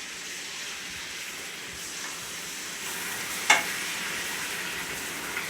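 A teaspoon of garlic sizzling and being stirred in a hot pan, a steady close frying hiss with one sharp clink of a utensil partway through, and no talking.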